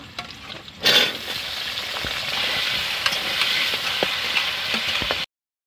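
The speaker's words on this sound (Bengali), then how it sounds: "তো কড়াতে আমি তেল দিয়ে দিচ্ছি, আলুগুলো ভেজে নেব।" Potatoes fry in hot oil in a wok, a sudden loud sizzle that settles into a steady, close crackling hiss and runs unbroken before stopping abruptly.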